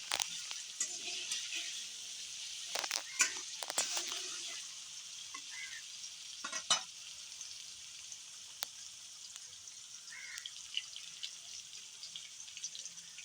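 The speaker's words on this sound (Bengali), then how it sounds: "এগুলোকে নেড়ে চেড়ে ভেজে নিব।" Mixed vegetables, cooked for a tilapia fish curry, sizzle softly in oil as they are stirred and tossed in a pan, with irregular scrapes and clinks of the utensil over a steady low frying hiss.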